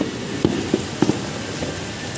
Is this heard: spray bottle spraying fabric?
no